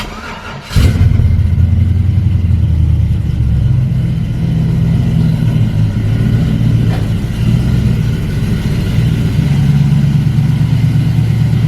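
An LS V8 engine in an S10 with a sealed exhaust, no leak, barks to life and settles into a loud, steady, deep idle with a lumpy rumble that continues throughout.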